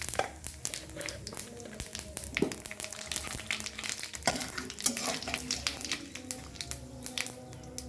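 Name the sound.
bay leaf and whole cumin frying in oil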